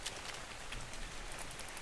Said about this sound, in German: Der Regen kommt übrigens gerade genau richtig